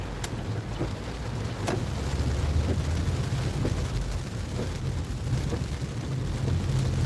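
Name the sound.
heavy rain heard from inside a car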